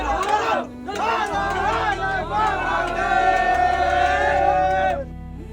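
Crowded Sunday train on the eve of the first Monday of Shravan, with a dense babble of many voices close by, steady and continuous throughout.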